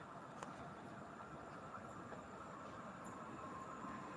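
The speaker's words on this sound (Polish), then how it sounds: "Tak, osobowy pociąg." A passenger train rumbles past at a distance with steady low rolling noise and faint wheel clatter, fairly quiet throughout.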